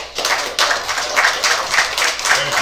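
A crowd at a news conference breaks into a round of applause, dense clapping that swells and holds steadily, fairly loud and close, with no speech over it.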